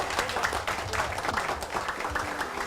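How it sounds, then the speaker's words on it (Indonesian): An audience at a JOYBIZ gathering in Jember claps for a doctor, a busy continuous patter of hands that stays fairly loud throughout, with faint voices mixed in underneath. "Beri tepuk tangan untuk Bu Dokter"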